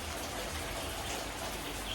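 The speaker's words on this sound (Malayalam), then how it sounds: "ചെറുതായിട്ട് മഴ പെയ്യുന്നു" Light rain falls outdoors, a soft, even patter and hiss that holds steady and stays faint.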